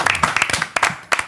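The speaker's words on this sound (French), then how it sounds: "bravo, on l'applaudit." Studio audience on a French TV sports talk show clapping for a first-time guest, a sparse, uneven burst of individual hand claps with short gaps, fairly close and moderately loud.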